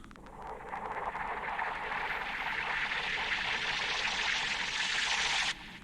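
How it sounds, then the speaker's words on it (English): A vocoder-processed string sound swells as a breathy, noisy wash, building steadily for about five seconds before cutting off abruptly, moderately quiet and heard alone. "I've put a vocoder on it so it actually sounds like this"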